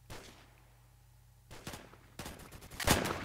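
Mark 11 rifle fire in the Roblox shooter Phantom Forces: a single crack opens, then after a pause several sharp shots come in clusters, the loudest burst near the end, with no talk over them.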